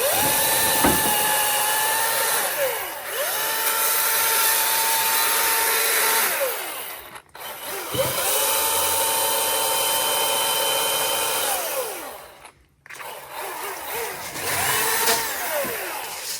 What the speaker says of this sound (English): I'm just making some notch cuts in it so it don't pinch my saw.